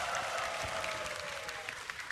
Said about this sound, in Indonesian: Beri tepuk tangan untuk Nita Thalia dan Dewi Yul.